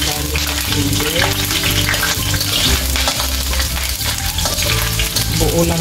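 Asparagus sautéing in a pan with garlic and ginger, a steady loud sizzle and frying crackle with stirring scrapes running throughout, no talking.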